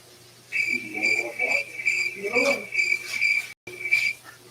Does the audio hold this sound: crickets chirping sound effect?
yes